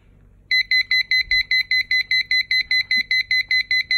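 A LiPo battery checker sounds its low-voltage warning alarm with a fast, steady train of loud, piercing electronic beeps. They start abruptly after a brief quiet moment and repeat evenly right through to the end.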